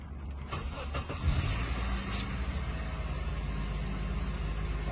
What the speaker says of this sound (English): I can just start the engine right now